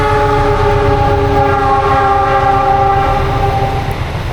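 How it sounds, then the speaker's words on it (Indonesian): A train rolls past close by, loud and continuous, with a deep engine rumble and a steady tonal hum or horn-like drone throughout, alone without talk. "Wow, kereta."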